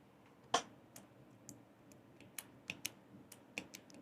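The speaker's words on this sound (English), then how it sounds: "You can hear the keys being pulled out." Small plastic keycaps are pulled off the compact physical keyboard of a Unihertz Titan 2 phone, giving a handful of sharp, quiet clicks and snaps spaced irregularly over a faint room hiss.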